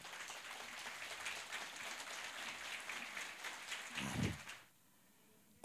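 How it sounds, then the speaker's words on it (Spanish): Church congregation applauding during a Spanish-language sermon, a steady wash of clapping that swells near the end, then cuts off abruptly into near silence. "Dale un aplauso al Rey"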